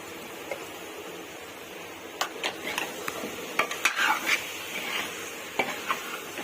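A spoon stirs drumsticks into frying tomatoes in a cooking pan for an egg and drumstick curry, giving soft scraping and scattered metallic knocks over a low sizzle, fairly faint and close.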